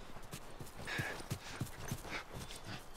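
Horses clip-clop in The Last of Us video game, a steady, evenly spaced run of hoof beats at moderate distance over a soft background.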